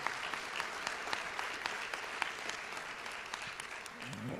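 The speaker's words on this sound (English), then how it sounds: "Round of applause again for all those 20 teachers." Crowd applause for twenty teachers at the 2022 Delaware Teacher of the Year ceremony, a dense, continuous wash of clapping that holds steady throughout with scattered sharper claps standing out.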